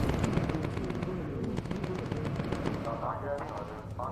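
Rapid machine gun fire rattles from a bomber's turrets in the video game Bomber Crew, a dense continuous stream of shots with a voice speaking over it.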